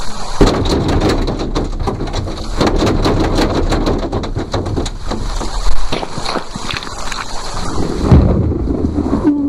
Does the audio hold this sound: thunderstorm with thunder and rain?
yes